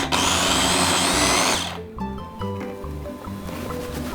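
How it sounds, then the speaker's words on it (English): Food processor whirring loudly as it blends onions, ginger and garlic for curry puff filling, a steady high buzz for about a second and a half before cutting off, followed by softer kitchen clatter. "get the onions, ginger and garlic into the food processor"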